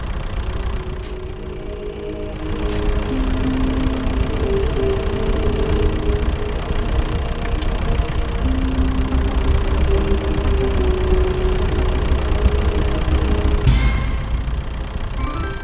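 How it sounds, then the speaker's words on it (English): Tractor engine in the video game The Stanley Parable idles in a low, even rumble, steady and fairly loud throughout, ending with a faint chime. "This is a tractor and not a bucket."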